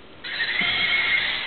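A toy horse neighs electronically, a bright, steady whinny with a faint clip-clop underneath, loud and close, running continuously for over a second.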